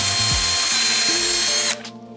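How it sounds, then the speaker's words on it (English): A power drill whines loudly and steadily as it bores holes through ETOXX deck flaps for a Trampa board, with pitch shifts under load before stopping abruptly. "we're just going to drill through"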